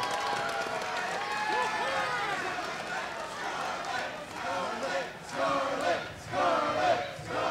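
A capacity wrestling crowd roars and cheers throughout a tag match involving Scarlett Bordeaux, swelling into louder surges near the end, with a commentator talking over the noise.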